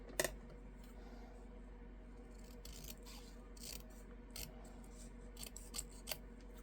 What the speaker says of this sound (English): I might need to cut that a little thinner.